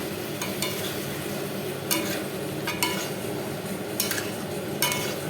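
Prawn masala with sugar sizzles in a pan under a continuous frying hiss, with a spatula scraping and clinking against the metal every second or so, close by.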